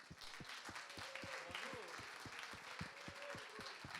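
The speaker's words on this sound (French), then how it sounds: "Je vous demande juste de faire une petite salve d'applaudissements pour Sophie Tricot," Applause at a company conference in Bordeaux, rhythmic clapping from an audience, fairly faint, with some voices in the room.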